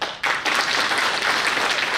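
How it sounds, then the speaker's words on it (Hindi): An audience claps at a network marketing seminar, a brief burst of dense applause that surges, dips for a moment, then continues steadily. "ताली बजानी तो खुल के बजाओ"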